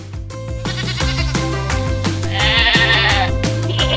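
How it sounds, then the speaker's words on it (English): An animated goat bleats in a loud, wavering cry over a steady bouncy music track, the call rising in the second half of a children's cartoon. "We are a goat."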